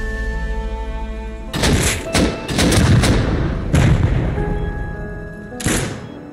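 Gunfire on a loaded official Rust console server: several loud, close bursts of shots and heavy thuds in short clusters, with steady tonal game ambience humming beneath them.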